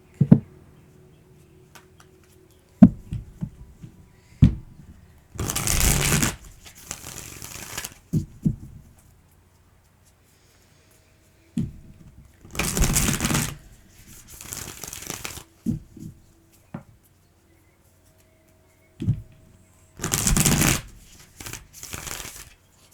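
A Moonchild tarot deck being shuffled in three distinct bursts of rapid riffling, close and crisp, separated by quieter pauses with light taps and card handling.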